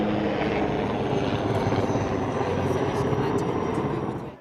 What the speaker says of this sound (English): So there's an army chopper coming overhead?